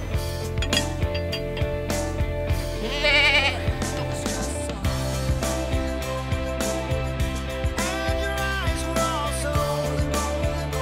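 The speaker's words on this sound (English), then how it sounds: "we decided to add a second goat, Cody." Two goats staked out for grazing on a permaculture homestead bleat repeatedly, close and clear, with short wavering calls spaced across the stretch, alongside light clinking of metal and handling noises.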